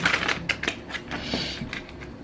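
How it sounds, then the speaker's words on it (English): Tarot cards are shuffled by hand, giving a quick irregular run of papery flicks and riffles, close and fairly soft, with no talk over it. "That was a horrible shuffle."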